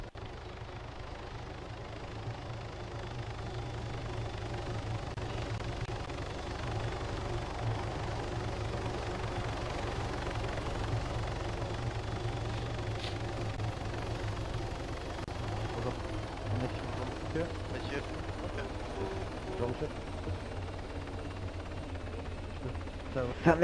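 A continuous low rotor and engine drone from three helicopters flying overhead in the video game Arma 3 rumbles steadily throughout, with people talking over it.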